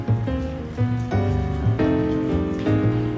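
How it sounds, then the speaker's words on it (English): Steady rain falling outdoors on a hike, a dense even patter that fills the whole stretch at close range with no voices over it. "I was getting bored of waiting for the rain to stop"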